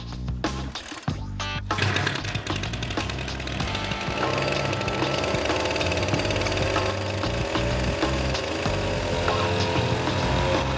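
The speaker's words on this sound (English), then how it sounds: "The new weed whacker is actually working fine. It's whacking away." Small two-stroke weed whacker engine driving a propeller fan, running steadily and loudly with a dense buzzing drone throughout, revving briefly at the start and then holding a constant pitch.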